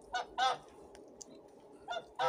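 A goose chasing another goose lets out about four loud, nasal honks in two quick pairs, fairly close, with quiet between.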